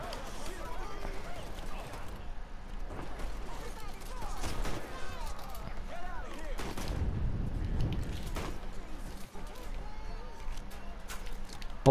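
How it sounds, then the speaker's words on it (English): Gunfire in the video game Mafia III during a shootout in a lobby: scattered shots and bursts sound under almost continuous talking, with a heavier thump midway. "Bullets flew like crazy as I ran through the lobby."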